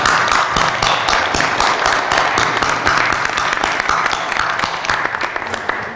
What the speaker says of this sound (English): I just wanted to give it up to have a big clap for all of you.